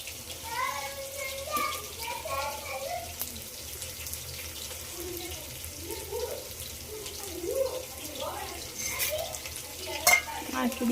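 Ingredients with cardamom stirred in a cooking pan, giving soft, irregular scraping and sizzling-like clatter under steady background hiss, with someone talking over it.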